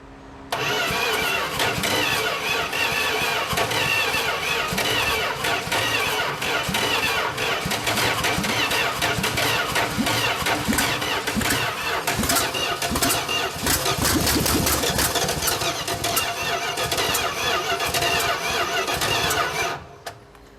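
A 1988 Dodge D100 short-bed pickup's engine cranks steadily and loudly for about twenty seconds, catching and firing unevenly on some cylinders as if starved of fuel, then cuts off.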